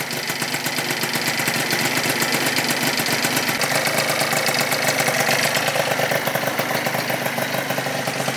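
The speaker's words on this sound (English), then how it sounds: "Let's let her warm up. First little heat cycle on her." A 70cc Yamaha Zuma scooter idles on its first start, a steady, close and loud putter with a fast, even rhythm and no pauses or talk across the whole stretch.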